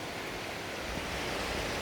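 Ocean surf at a beach on Kauai roars as a continuous broadband wash, steady and fairly close, with no distinct breaks.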